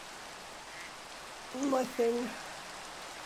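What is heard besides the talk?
rain falling in Minecraft (video game)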